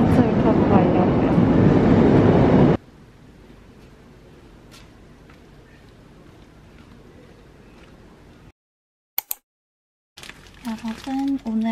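A subway train ride: a loud rumbling roar of the moving carriage at first, then a quieter steady hum of the car interior, a brief near-silence, and a short electronic chime tone at the end.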